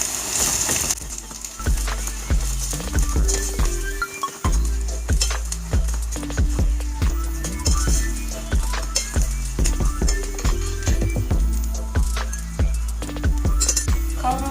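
Tomato paste and pepper paste frying in a pan for kısır, a loud close sizzle with rhythmic scraping and clinks of a spoon stirring throughout, no voice.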